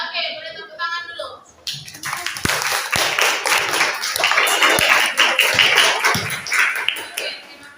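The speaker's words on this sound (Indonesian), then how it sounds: "Oke, boleh tepuk tangan dulu." Primary school pupils in a mixed-grade classroom clapping their hands together, a burst of loose, uneven claps with sharp individual slaps that builds quickly and carries on for several seconds after a brief spoken lead-in.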